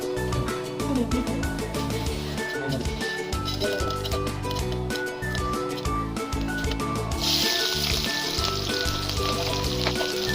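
Whole spices fry in hot cooking oil in a pan: bay leaves, cinnamon, cardamom, peppercorns and cloves for a beef curry. A continuous loud crackling sizzle, with background music and a brighter spitting burst near the end.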